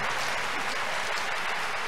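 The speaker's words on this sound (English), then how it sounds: "Clap for Jesus." A crusade congregation claps for Jesus, a dense, loud, continuous wash of many hands clapping together with no distinct gaps.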